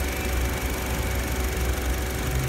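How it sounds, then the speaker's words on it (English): Car engine running steadily with its AC compressor engaged, giving a constant droning hum with a faint tonal whine, even in level and with no talk over it. "if you can hear the engine RPM and the compressor kicking off and on"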